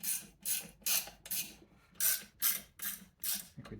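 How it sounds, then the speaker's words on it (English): Ratchet wrench on a Jawa 350 motorcycle, tightening down a keeper, gives about eight loud, evenly spaced bursts of rapid clicking, each stroke followed by a short pause. "we're gonna try to ratchet this thing down and get it out"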